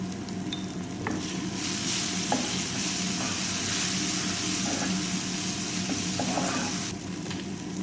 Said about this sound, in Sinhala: ඊළඟට මම තක්කාලිත් දාලා මේ ටික ඔක්කොම හොඳට පොඩ්ඩක් තෙල් එකේ බැදෙන්න දෙනවා